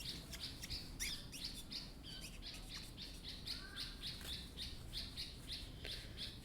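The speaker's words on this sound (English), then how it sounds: "I'm not sure what that bird's up to outside, but it's going absolutely crazy" A bird outdoors chirps in rapid, repeated bursts, busy and continuous, with a steady hiss of background noise underneath and no talking.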